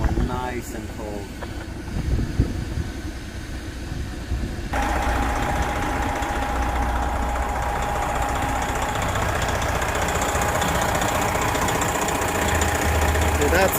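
A 1999 Volvo VNL truck runs with its AC compressor engaged, a steady mechanical engine drone joined partway through by a louder fan-like whoosh and faint whine; a person speaks briefly near the start.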